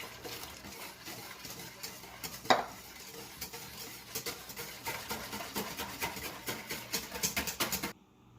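A utensil scrapes and clinks against a bowl in quick repeated strokes while stirring a coconut custard mixture, with one sharper clatter early on, then the sound cuts off.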